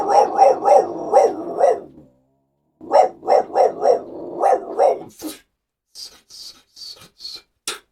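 A person's voice imitates a dog barking: a quick run of about five loud woofs, a pause, another burst of five or six, then several shorter, fainter yips.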